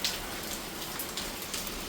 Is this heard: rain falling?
yes